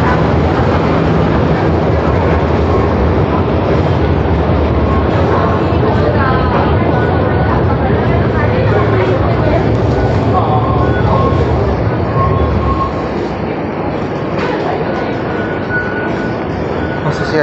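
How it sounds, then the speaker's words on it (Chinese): A Hong Kong MTR metro train runs from Kowloon Bay, heard from inside as a loud, continuous roar and rumble of wheels and motors that holds steady for the whole stretch. "我而家就经九龙湾站坐地铁走。"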